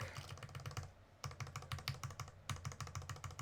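Typing on a KBDFans KBD67 MKII soldered mechanical keyboard with JTK white-on-black keycaps, quick close bursts of crisp clacky keystrokes with two short pauses between runs.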